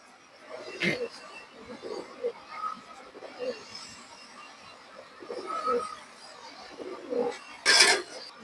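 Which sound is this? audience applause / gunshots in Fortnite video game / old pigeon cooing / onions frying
old pigeon cooing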